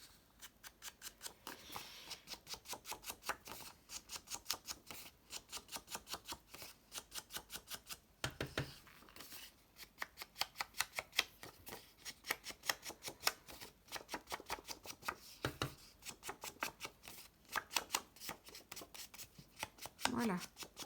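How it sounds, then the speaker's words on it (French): Rapid rhythmic dabbing of an ink applicator along paper edges of a junk journal tag, dense repeated soft taps in bursts with short pauses, quiet and close. "je vais ancrer mes bords avant de le coller"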